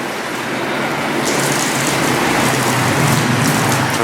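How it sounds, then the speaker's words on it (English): Heavy rain pours steadily beneath a railway bridge at a station, a dense continuous hiss close by with faint road traffic mixed in, no voices. "I'm under the bridge because it's just raining so much now"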